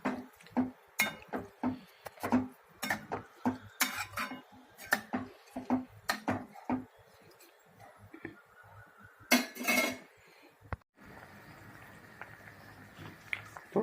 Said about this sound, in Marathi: पुन्हा चांगलं हलवून घ्यायचं आहे।